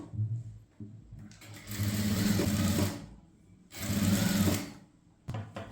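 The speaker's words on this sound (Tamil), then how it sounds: "இப்படி ஒரு ஃபோல்டு பண்ணி இன்னொரு ஃபோல்டு இந்த மாதிரி பண்ணி இந்த ஓரத்தில் ஒரு தையல் போடுங்க" A sewing machine stitches a folded sleeve hem on a kurti top in two clear runs of rapid, whirring needle chatter, then starts a brief third burst, all close and loud.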